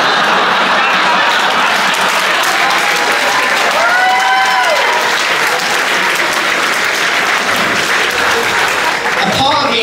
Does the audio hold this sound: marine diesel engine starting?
no